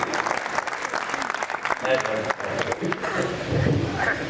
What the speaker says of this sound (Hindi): एक बार ताली बजाएं दिनेश दिग्गज के लिए।